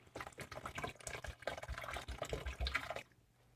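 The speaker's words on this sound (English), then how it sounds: "Let's go ahead and add some more and then bring it back to a boil." Water pours and splashes into a cooking pot in a continuous uneven gush for about three seconds, close and fairly loud, then stops abruptly into near quiet.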